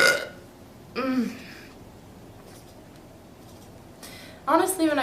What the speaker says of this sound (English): when I burp on you, it tickles my insides